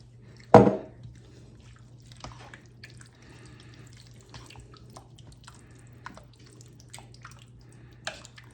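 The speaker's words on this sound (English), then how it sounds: "I'm gonna drain the corn." Canned corn being drained gives a sharp splash of liquid, followed by quieter scattered drips and trickles over a steady low hum, without speech.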